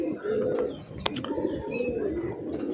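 Domestic pigeons coo softly and continuously in a crowded loft, low throaty calls overlapping in a dense murmur, with a single sharp click partway through.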